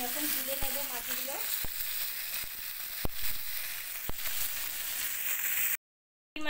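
Prawns fry in mustard oil, then bay leaf and whole garam masala spices temper in the hot oil, giving a constant close sizzle with sharp sporadic crackles. A voice is briefly heard over it, and a short silence comes near the end.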